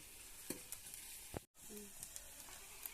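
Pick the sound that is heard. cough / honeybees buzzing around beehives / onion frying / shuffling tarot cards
onion frying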